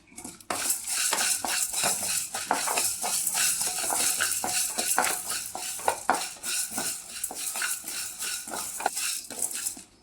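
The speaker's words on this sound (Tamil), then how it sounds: "கொஞ்சமாக உளுந்து பொன்னிறமாக வறுக்கலாம்" Urad dal roasting in a pan for a cluster-bean poriyal, stirred with a metal spoon: constant rattling scrapes and clinks against the pan over a light sizzle, with no talking.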